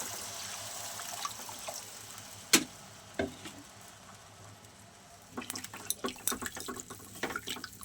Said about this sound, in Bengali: চলো এবার জল দিয়ে দিই।